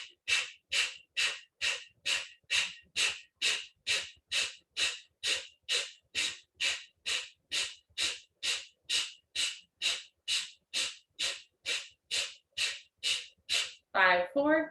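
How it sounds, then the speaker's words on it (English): Kapalabhati yoga breathing: a long, even series of forceful, sharp nasal exhales, about two per second, close and loud, ending with a deeper breath. "Kapalabhati breathing, final breathing."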